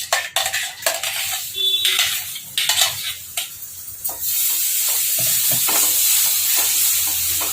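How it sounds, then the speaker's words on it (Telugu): A spoon repeatedly scrapes and clinks against a pan while mango pulp mixture cooks down until thick, the stirring close and irregular, followed by a steady hissing bubble. "గట్టిగా అయ్యేదాకా ఇట్లనే కలుపుకుంటూ ఉండాలి."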